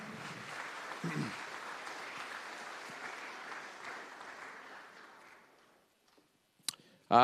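An anniversary celebration crowd applauds an award recipient with a sustained burst of clapping that gradually thins and fades to silence, followed by a few sharp isolated clicks and a sudden loud sound at the end.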